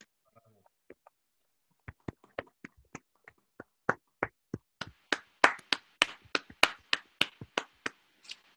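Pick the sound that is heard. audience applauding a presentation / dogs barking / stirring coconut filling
audience applauding a presentation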